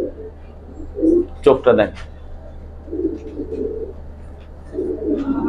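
A Giribaz pigeon coos in soft, low, repeated phrases spaced a couple of seconds apart, while someone speaks close by over the calls.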